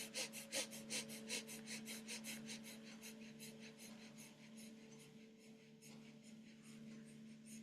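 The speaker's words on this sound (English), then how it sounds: "So I'm going to do a little Shakti breathing for a little bit." Rhythmic forceful breaths of a Shakti breathing exercise, rapid rasping inhales and exhales repeating steadily over a low sustained hum, close and moderately loud, no talking.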